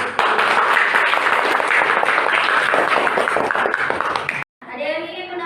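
Applause from a class of students fills the room, a dense, loud burst of clapping with some voices mixed in that cuts off abruptly near the end, after which a single person speaks.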